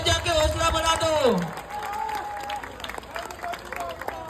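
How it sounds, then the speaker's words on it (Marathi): A crowd at an outdoor Dahi Handi festival applauds and cheers, a broad clapping wash under a loud voice on a speaker system, then crowd babble continues. "सर्वांनी जोरदार टाळ्या वाजवा"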